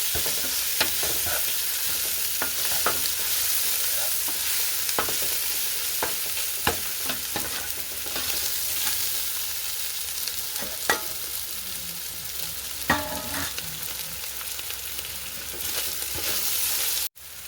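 Ginger sautéing in a pan, a continuous sizzle with repeated sharp scrapes and knocks as it is stirred and mixed, no voices.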